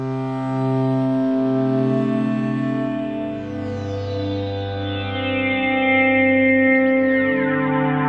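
Sustained ambient synth pad from an Arturia MatrixBrute run through a Black Hole DSP delay, layered harmonic tones drifting and shimmering with echoing repeats building a wide, steady wash throughout, no voices.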